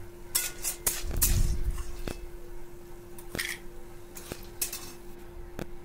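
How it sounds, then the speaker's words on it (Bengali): A metal spatula scrapes and clinks against a wok as lentil dumplings are turned and stirred in mustard oil, giving sharp intermittent knocks and a soft frying hiss underneath, close and without talk. "বড়িগুলোকে এপিট উপিট করে ভালো করে ভেজে নাড়িয়ে নামিয়ে নেব"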